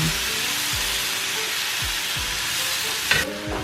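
Potatoes fry in butter in a cast iron skillet with a steady, close sizzle, broken by a few low scraping strokes and a sharper clink near the end.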